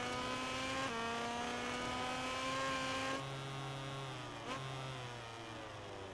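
A KTM racing motorcycle engine in MotoGP 18 holds a steady high-pitched drone, dropping in pitch at a gear change partway through, loud and continuous with no voices.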